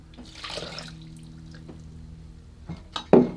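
Water is poured into a pot by weight for a liquid sugar syrup, a brief soft splashing trickle early on followed by faint clinks and a louder splash near the end, with no talk.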